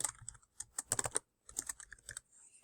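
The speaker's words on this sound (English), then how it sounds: "once I've typed in that text" Rapid, uneven bursts of keys being typed on a computer keyboard while entering a caption, close and clear with brief pauses between runs of keystrokes, no talking.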